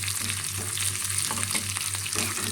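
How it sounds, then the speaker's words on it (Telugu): Dried red chillies, curry leaves and onions frying in oil as a tempering for a ridge gourd bajji curry, heard as a steady close sizzle with a few light stirring taps and a low steady hum beneath. "ఒక 2 ఎండుమిరపకాయలు వేసుకుందాము. కరివేపాకు, ఎర్రగడ్డలు కూడా వేసేసుకుందాం. కొద్దిగా ఫ్రై చేసుకుందాం."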